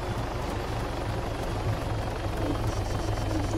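Helicopter in the video game Altis Life, a steady low rotor thrum with a pulsing engine drone, continuous and close throughout with no talk.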